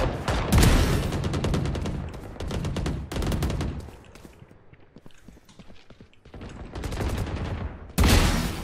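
Valorant deathmatch gunfire crackles loudly in rapid automatic bursts, with short pauses and quieter stretches between volleys.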